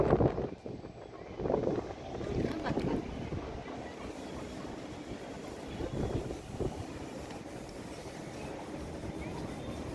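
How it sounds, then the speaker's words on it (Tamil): Strong wind at a temple buffeting the microphone in gusty low rumbles, loudest early on, then a steadier roar with faint background voices. "காற்று வேறு ஓவர் அடிக்குது."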